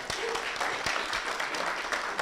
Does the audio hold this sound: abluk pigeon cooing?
no